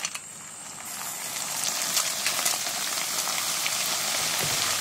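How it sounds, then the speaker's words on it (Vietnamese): Leftover dried cooked rice crackles and sizzles in very hot oil, a dense steady frying hiss that builds slightly and continues evenly throughout. "Đợi dầu nóng già rồi mình bỏ cơm vào chiên nè."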